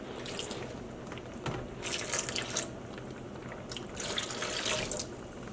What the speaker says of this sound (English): I'm adding a few healthy splashes of vinegar